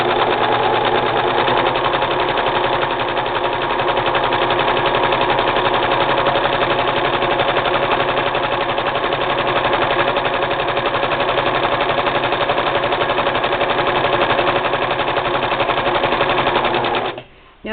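A Singer 6212C sewing machine stitching through thick hand-woven fabric of fisherman wool and pink acrylic yarn, a loud, close, continuous motor whir with rapid needle clatter that runs unbroken for many seconds before stopping abruptly.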